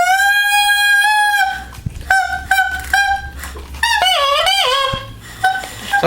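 Beginner saxophone played by a seven-year-old on day one, giving squeaky, honking, duck-like tones: a long reedy note, then several short squawks and a wavering bent squeal, close and fairly loud.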